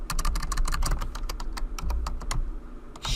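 Fast, steady typing on a computer keyboard, a dense run of close clicking keystrokes with no talk.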